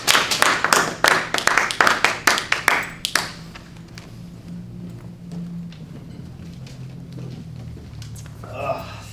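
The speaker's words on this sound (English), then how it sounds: "So give him a warm round of applause." Audience applause at a storytelling event, sharp loud claps for about three seconds that thin out and fade into quiet room noise, with a faint voice near the end.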